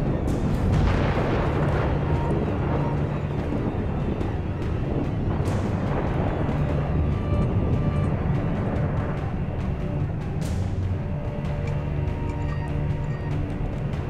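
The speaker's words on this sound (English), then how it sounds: "It's a teapot cannon." A teapot cannon fires in the video game Alice: Madness Returns, with several booming blasts and crackling bursts over a dense rumbling background of game sound.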